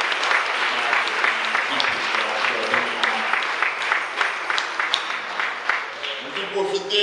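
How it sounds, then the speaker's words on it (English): A congregation in a church setting gives a sustained round of applause, many hands clapping in a dense, close wash that continues for several seconds with a few voices mixed in. "So we'd like to give a round of applause"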